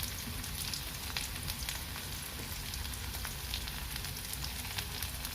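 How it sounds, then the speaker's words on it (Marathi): Finely chopped onion frying in oil after mustard seeds have crackled, a faint, steady, close hiss of sizzling with no voices. "याला या कांद्याला छान ब्राऊन होईपर्यंत आपल्याला परतून घ्यायचं आहे"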